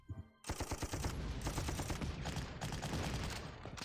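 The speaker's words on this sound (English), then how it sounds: "And then I'm going to attack this with my tank" A tank attacking with gunfire in the wargame Panzer Corps, loud rapid machine-gun style bursts kicking in abruptly after a brief quiet start and rattling on continuously.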